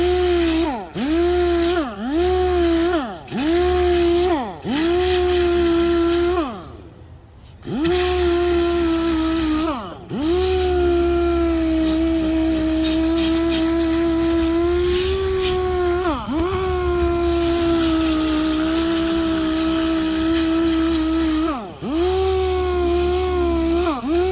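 A power sander whines and buzzes steadily against a custom metalflake-painted Harley motorcycle tank with 80-grit sticky-back sandpaper, loud and close, its pitch dipping as it starts and stops in short bursts before a long continuous run.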